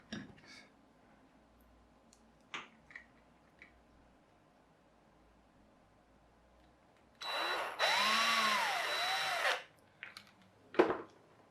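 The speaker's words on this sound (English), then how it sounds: "preferably not drilling straight into my fingers" A power drill whines for about two seconds into a piece of wood, rising and falling in pitch as it bites, between scattered clicks and knocks in a quiet room.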